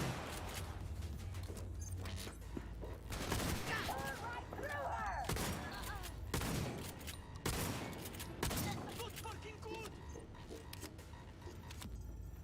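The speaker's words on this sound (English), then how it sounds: "Where are they shooting me from?" Gunfire in the video game Cyberpunk 2077: bursts of rapid shots and sharp cracks, fairly close and loud, repeating throughout over a busy mix of game sounds.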